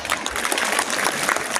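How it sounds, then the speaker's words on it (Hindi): An audience at a school function claps loudly, a dense continuous patter of many hands filling the short stretch without a break. "तो जोर से तालियां"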